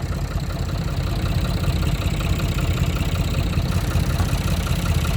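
A vehicle engine idles steadily at an event, giving a continuous low rumble with a constant mid-range hum that holds at an even level throughout, with no voices over it.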